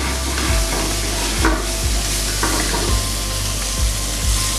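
Vegetables and shrimp fry in a pan with a loud, constant sizzle, broken by about half a dozen scraping stirring strokes at an even pace, with no voices.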